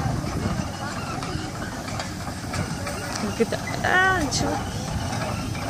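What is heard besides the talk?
steam tractor engine puffing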